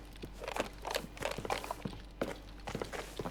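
Footsteps in the video game Arena Breakout: Infinite patter in a quick, uneven rhythm, close and moderately loud, clustered in bursts with brief pauses between.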